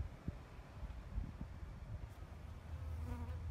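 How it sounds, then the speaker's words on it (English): A bee buzzes around blooming chives in a garden with a faint, close, wavering hum. Light wind noise sits underneath, and no one talks. "Oh, and look, there's a bee."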